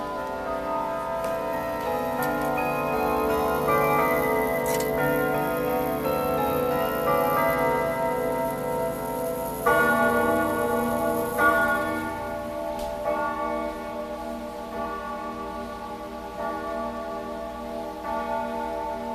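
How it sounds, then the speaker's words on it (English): A well-made cable-driven grandfather clock with three chime options rings out a sustained, resonant chime melody, its bell tones overlapping and ringing on, with faint ticking beneath. "it's a really well made clock, and it has 3 different chimes"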